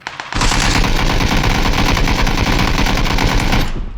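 Loud, dense automatic gunfire from a VSS or Mk14 in PUBG roars almost without a break, sharp and close, then cuts off abruptly near the end, with no one speaking.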